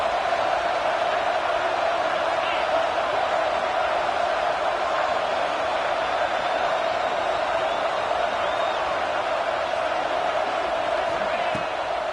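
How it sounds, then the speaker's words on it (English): A stadium crowd in an NCAA football video game cheers on third down, a constant, even roar that holds at the same level throughout. "Crowd getting this defense whipped up on 3rd down"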